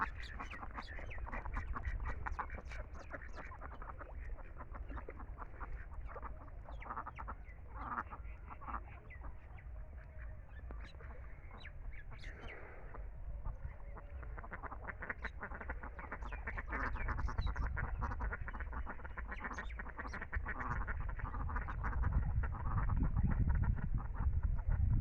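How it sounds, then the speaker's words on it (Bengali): A large flock of ducks bathing in a river quacks continuously for the whole stretch, a dense overlapping chorus of calls with water splashing, growing slightly louder toward the end; no one speaks. "অনেকগুলি হাঁস নদীর পানিতে গোসল দিচ্ছে।"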